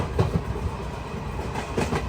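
Tirupati Express passenger train running through Nagari station without stopping, a steady rolling rumble of railcars on the track with faint periodic wheel clatter throughout.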